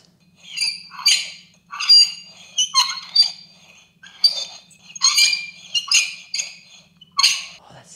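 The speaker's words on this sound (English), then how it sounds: "What I have for you today is this plate. Oh, this plate and a fork." Metal fork tines scraping and squeaking across a plate in close-up ASMR, with repeated short bursts of shrill scratching spread evenly over several seconds, alone without talk.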